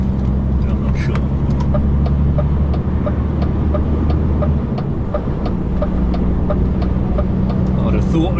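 A long truck's meaty, deep engine drones steadily and fairly loud, a low rumble that holds level throughout, with some lighter background noise above it.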